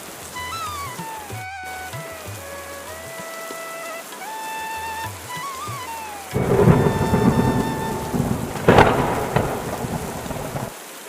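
Heavy rain pours alongside a rumbling thunderclap and crackling strikes, entering after a melodic tone-and-chime passage and continuing loud and dense to the end.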